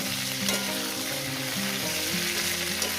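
Potatoes for a shol fish curry fry in a pan over medium gas, browning to a reddish colour. A loud, dense, continuous sizzle is broken by the scrape of stirring, with no talking.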